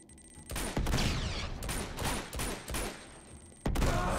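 A grenade blast and heavy gunfire in the video game Uncharted 2, fought on Brutal difficulty against soldiers, one with a shotgun: loud repeated bursts and booms with a sharp burst near the end, no talking.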